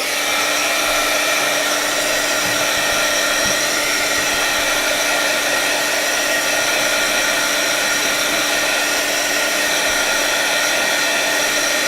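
A dryer blows steadily to dry a starter background for fall cards, giving a loud, continuous close whoosh with a faint high whine throughout and no talking.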